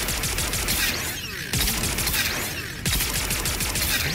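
A Ravager Twin Shotgun fires in Star Citizen as a dense, continuous barrage of loud, close blasts and rattling gunfire that rolls on without pause and briefly dips twice.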